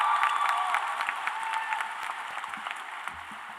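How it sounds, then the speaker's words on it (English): Audience at a Rutgers School of Social Work graduation convocation clapping for the 2024 MSW degree candidates, a dense, steady round of applause in a large hall that gradually thins and softens. "You could clap. Go ahead. Yes,"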